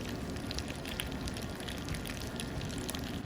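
A sauce reduction poured in a teaching kitchen, a continuous liquid gush and splatter running steadily for a few seconds, close and fairly loud, with no talk over it.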